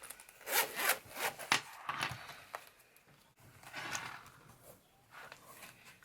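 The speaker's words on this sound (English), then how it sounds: "Like always, we are going to unstuff our envelope." A paper cash envelope is handled and emptied of bills, close dry rustling, rubbing and sliding strokes in irregular bursts, fairly quiet, with no talk.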